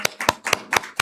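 A church congregation gives a short round of welcoming applause: about five sharp, separate claps in an even rhythm, fairly close and clear, with no talking.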